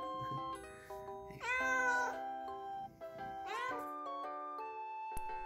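Two house cats meowing: several drawn-out, tonal meows that rise and fall, close and clear in a quiet room, with a faint ding-like tone near the end.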